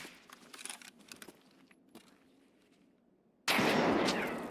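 A grenade goes off in the video game Escape from Tarkov. Soft clicks and rustling movement come first, then a sudden loud blast hits near the end and holds as a roaring decay.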